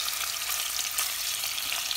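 Pork pieces with thyme fry in a hot pan, giving a dense steady sizzle with faint crackles throughout.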